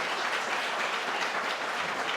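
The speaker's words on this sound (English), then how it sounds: "let's give another round of applause" Steady applause from a gala audience at a Korean language foundation benefit, an even wash of many hands clapping without pause, fairly distant and unaccompanied by speech.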